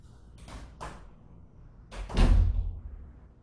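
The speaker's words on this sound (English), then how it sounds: "I'm going to shut the door because I can hear a car leaving the garage." A door is pushed shut indoors in a home yoga space, with a few soft scrapes and knocks followed by a heavier thudding close, near and moderately loud with no speech.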